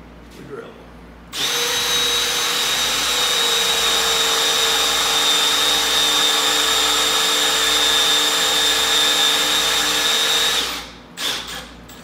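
A power drill boring into a stretcher drilling jig whines at a steady high pitch for about nine seconds, loud and close, then spins down and stops.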